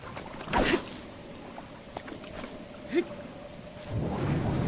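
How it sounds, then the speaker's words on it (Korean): Soft, steady rain falls in Zelda: Breath of the Wild, a quiet wash of patter with faint low thunder and a few brief game effects, swelling slightly toward the end. "근데 여기 오니까 왜 비가 내리지 또?"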